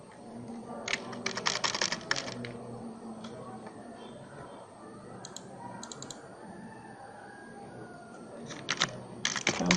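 Bursts of quick clicking keystrokes on a computer keyboard, close and fairly quiet, come in clusters separated by pauses, with a low background hum and a voice murmuring faintly underneath.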